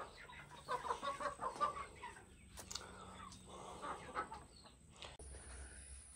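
Chickens in a garden flock of hens and roosters cluck in soft, uneven bursts, fairly faint and close by, with quiet pauses between calls.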